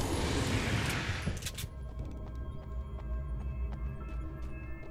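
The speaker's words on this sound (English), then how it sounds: "those flashbangs were really overpowered in the original game" A flashbang goes off in the video game Alan Wake's American Nightmare: a sharp, loud burst that washes out within about a second and a half, then gives way to a low humming game ambience with faint ticking.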